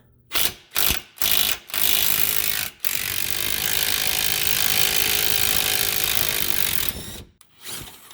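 Ratchet wrench turning a 17 mm bolt on the lower control arm of a 2012 Mazda CX-9: a few sharp, separate clicks, then a long, loud, steady run of rapid ratcheting close by, which stops abruptly near the end.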